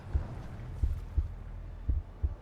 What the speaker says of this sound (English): How is the heart beating?